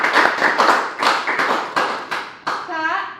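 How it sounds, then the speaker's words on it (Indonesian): Group hand clapping at an Indonesian talk show, a series of sharp rhythmic claps in bursts close by, with a voice speaking briefly at the end. "Oke, sip. Tepuk tangan dong."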